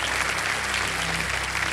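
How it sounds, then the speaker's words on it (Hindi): Studio audience applauding on the game show Kaun Banega Crorepati, season 15: steady, dense clapping throughout, moderately loud and continuous, with a low musical tone underneath. "ताली बजिए।"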